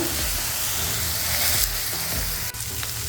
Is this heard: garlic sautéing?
yes